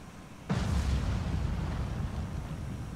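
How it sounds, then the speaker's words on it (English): A torpedo strike explodes in the submarine video game Cold Waters, set in a 1984 Skipjack campaign: one sudden deep boom followed by a long, heavy rumbling roar that fades slowly, with no talking. "Okay, second impact, so it is going to take a third torpedo strike on that."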